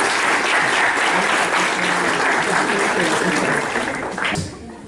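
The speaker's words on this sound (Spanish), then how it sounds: "Un aplauso, por favor." An audience at a lecture by an economics professor claps steadily and loudly for nearly five seconds, the dense applause thinning out in the final moment with no voices over it.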